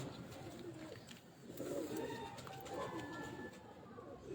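Antique old-bloodline show pigeons coo softly in a low, steady murmur, with faint bird calls over a noisy background and no clear speech.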